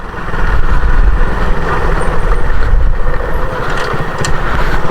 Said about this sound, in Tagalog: Ayun, may motor oh.